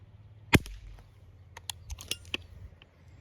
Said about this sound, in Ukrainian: Стріляю з упору для того, щоб оцінити крупність пістолета даними кулями.